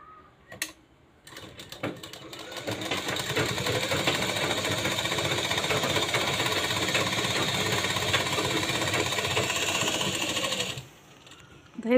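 A sewing machine running a double line of stitching on a blouse: a rapid, steady mechanical rattle that starts after a few clicks, runs for about nine seconds at close range and then stops.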